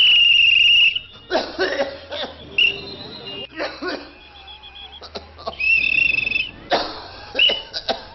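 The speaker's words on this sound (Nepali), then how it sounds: "यो मान्छेले यसरी लगातार खोक्न थाल्नुमा कति भयो?" A person coughs repeatedly in harsh bursts spread across several seconds, with short pauses and faint background sounds between the fits.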